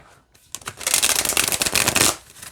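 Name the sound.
shuffling a deck of tarot cards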